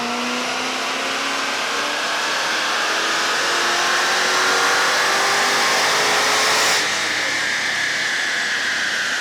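A car engine running through stock mufflers, a continuous hushed whooshing drone with a slowly rising pitch that holds steady near the microphone for the whole stretch before easing slightly.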